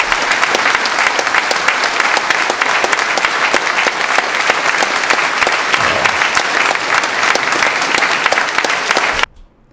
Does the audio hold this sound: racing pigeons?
no